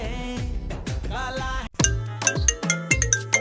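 A mobile phone rings with an incoming call, a bright chiming melody of repeated electronic notes, loud and close, with no one talking over it.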